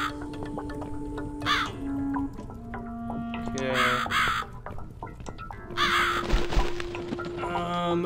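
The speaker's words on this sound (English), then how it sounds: "I guess we're following a crow now." Crow caws from the video game The Cat Lady, a few harsh calls spaced out over a steady ambient game soundtrack with tonal drones, moderately loud and close.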